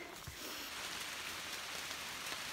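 Rain falls steadily on a wilderness trail in Maine's 100 Mile Wilderness near Abol Bridge, a dense, even patter of drops with no voices.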